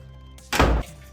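A door swings shut in a single dull thunk, a short solid knock of moderate loudness in an otherwise quiet room.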